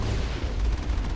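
Bombs detonate in the Mass Effect video game as a dense, rumbling barrage of muffled blasts that run continuously at moderate loudness, with no talk over them.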